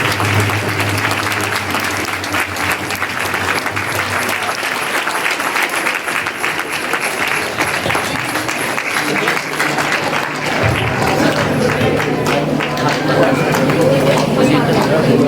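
Loud, sustained clapping from a congregation at a Sant Sunder Lal Ministries Christmas gathering fills the whole stretch, with a voice speaking over the applause and some steady background tones.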